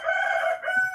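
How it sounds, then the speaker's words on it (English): A rooster crows once, a loud, close, sustained cock-a-doodle-doo that fills about a second, with no talking over it. "there's my rooster"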